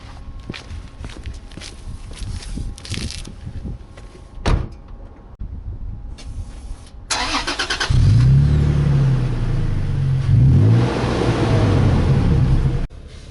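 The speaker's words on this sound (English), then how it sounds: "let's jump in the truck, head over to the car wash" A Toyota Tacoma TRD Pro pickup: footsteps and door handling, a door shutting, then the engine cranking and settling into a loud, steady idle that runs for several seconds before cutting out.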